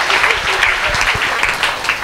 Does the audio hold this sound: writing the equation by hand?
no